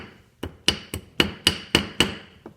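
A small hammer head pecks a survival fish hook with seven distinct, evenly spaced metallic strikes, each a sharp close ping that fades quickly, heard alone without talk.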